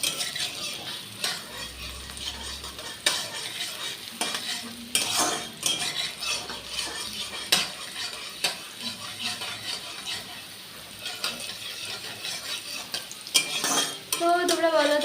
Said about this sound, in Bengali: উচ্ছেগুলো সুন্দর করে ভেজে নিতে হবে শুক্তোতে